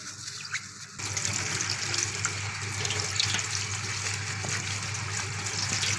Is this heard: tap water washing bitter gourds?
yes